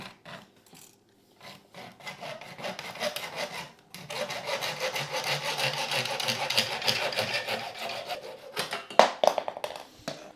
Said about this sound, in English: So we are going to try to make a good precise cut, which doesn't always happen in my case, and particularly using this saw.